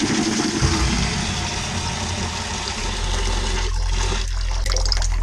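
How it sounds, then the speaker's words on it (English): Cold water gushes steadily into a plastic bucket, a continuous close rushing and splashing with a low drumming undertone, mixing powder for cleaning a bike air filter. "Put in some cold water."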